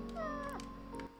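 A cat meows once in the video game Calico, a short, clear, rising-then-falling call heard fairly close over a quiet backdrop with soft game music.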